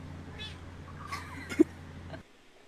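A Bengal cat meows a couple of times in a short compilation excerpt, the calls moderately loud over a low hum before the sound cuts to near silence.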